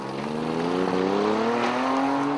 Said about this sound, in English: Sounds like that car's back running again.